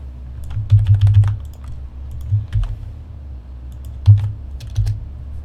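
Keys clack on a computer keyboard as an email address is typed, coming in short irregular bursts of close, crisp taps over a low room hum, with pauses between clusters.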